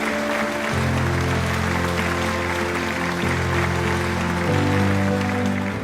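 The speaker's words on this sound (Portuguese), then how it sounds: "Vamos ficar de pé, galera. Vamos aplaudir o Matheus aí." A church congregation stands and applauds, steady dense clapping filling the room throughout, with a sustained low musical tone underneath.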